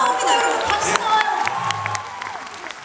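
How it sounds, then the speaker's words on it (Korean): Audience applause and cheering at a film showcase for the movie The Last Princess at Konkuk University's New Millennium Hall, a dense patter of clapping mixed with scattered shouts and crowd voices. "박수 나옵니다, 여러분"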